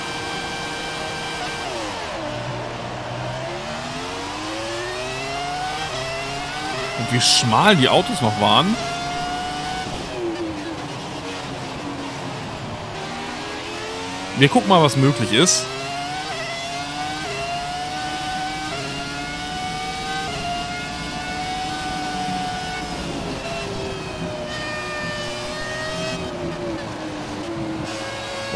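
High-revving Formula 1 car engine in the F1 2017 video game: a sustained screaming whine rising and falling through gear changes, with two sharp louder bursts, under someone talking.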